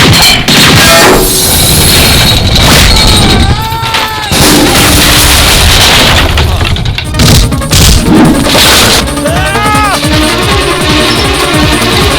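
Loud bursts of gunfire and booming impacts crackle over dramatic music, with sharp hits scattered throughout.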